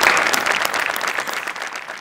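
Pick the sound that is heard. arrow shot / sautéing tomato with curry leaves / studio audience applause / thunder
studio audience applause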